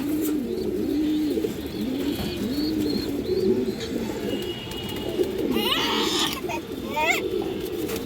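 Pigeons coo repeatedly at close range in a loft of fancy breeds, soft rounded calls overlapping with a few chirps and some sharper fluttering or scuffling near the end.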